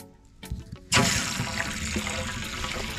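Water rushes on abruptly and keeps flowing steadily into the fresh water tank of a Salem Cruise Lite 171 RBXL RV, a loud continuous gushing close by after a few quieter knocks.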